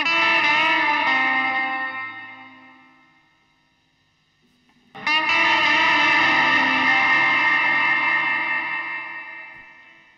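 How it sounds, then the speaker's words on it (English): A guitar plays through an EarthQuaker Devices Afterneath reverb pedal as its reflect control is adjusted: a bright strummed chord washes out into a long fading tail, then a second chord rings loudly and decays slowly. "Next is the reflect, which controls the regeneration of the reverb"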